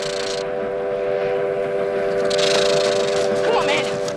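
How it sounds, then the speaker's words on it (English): A train running on railroad tracks, its steady horn-like tone blaring over a continuous rumbling roar, with people shouting loudly throughout. "I want to dodge the train!"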